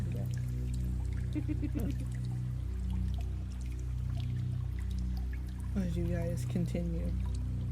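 A flowing water sound effect for a tunnel in a tabletop role-playing game: steady trickling and pouring that runs low beneath a narrator's voice throughout.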